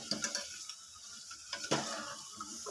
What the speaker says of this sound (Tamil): ஸ்லோ ஃப்ளேமில் வச்சுட்டே நம்ம வந்து மிக்ஸ் பண்ணி இது பண்ணிக்கலாம், ஃப்ரை பண்ணிக்கலாம்